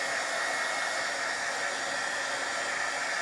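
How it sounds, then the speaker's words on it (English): Steady, high-pitched whoosh of an embossing heat gun blowing hot air, constant and close, with a faint whine running through it and no talking. "And this is just my heat gun for embossing."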